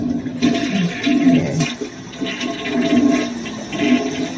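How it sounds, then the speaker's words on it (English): A toilet in a basement apartment flushes with a steady rushing, gurgling swirl of water, close and fairly loud, surging in waves over several seconds with no talk. "The toilet, you gotta flush it 24 times."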